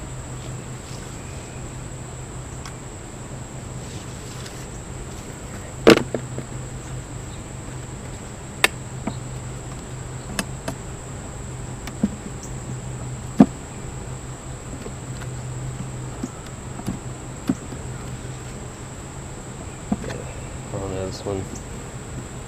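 Honeybees hum in an opened hive split during a beekeeping inspection, a faint steady drone under the close sound of handling, with sharp knocks and clicks of equipment scattered throughout.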